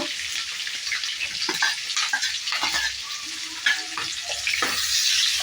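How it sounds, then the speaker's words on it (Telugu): Sliced onions and green chillies sizzle and crackle steadily in hot oil in a pan, with occasional stirring scrapes and no voices. "ఆనియన్స్ కలర్ చేంజ్ అయ్యేదాకా ఫ్రై చేసుకున్నాము"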